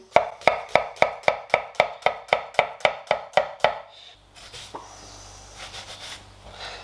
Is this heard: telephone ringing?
no